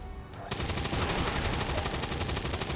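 A soldier's gun fires in XCOM 2: War of the Chosen, a loud burst of rapid automatic shots rattling steadily for over two seconds after a brief quieter lead-in.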